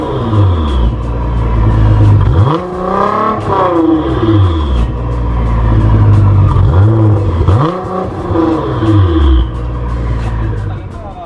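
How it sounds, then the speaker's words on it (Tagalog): A Nissan GT-R R35 twin-turbo engine runs up close, with loud, rising revs over a deep rumble, several surges and dips back to a throbbing idle. "ipaparinig ko sa inyo gaano ka powerful yung sound ng isang Nissan GT-R"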